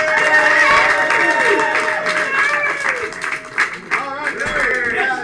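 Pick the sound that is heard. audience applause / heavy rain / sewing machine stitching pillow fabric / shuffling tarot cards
audience applause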